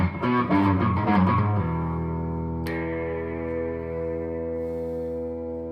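An electric guitar rings out through chorus and reverb effects, with a few strummed notes up front and then a long shimmering chord that slowly fades.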